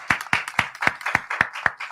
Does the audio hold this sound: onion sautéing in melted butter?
no